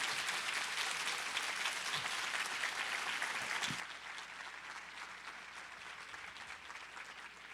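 Applause for Tara at a top seniors recognition ceremony, a full, steady roar of many hands that drops abruptly partway through to a quieter, thinner clapping that continues to the end.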